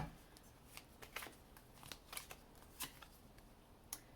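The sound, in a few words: shuffling tarot cards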